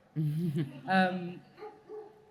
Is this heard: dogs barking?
yes